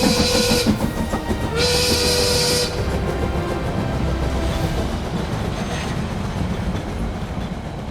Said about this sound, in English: On the night train at last.